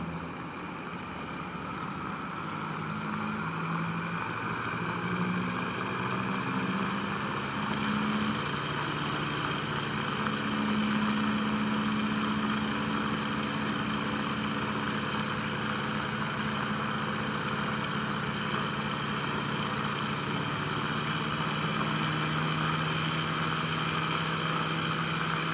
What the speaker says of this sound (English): Now the motor is going to run.